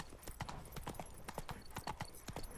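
Roach the horse galloping in The Witcher 3, an even, quick rhythm of hoofbeats clip-clopping across the whole stretch at moderate volume, with a faint voice underneath.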